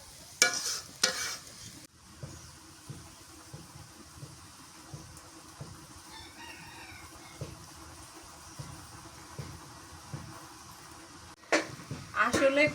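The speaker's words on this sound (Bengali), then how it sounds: "এটা জাল করে আমি এই ঝোলটা কষা করে নেব" Egg korma gravy made with country chicken eggs frying and reducing in a pan, a steady soft sizzle with rhythmic stirring scrapes throughout, with a person talking at the start and end.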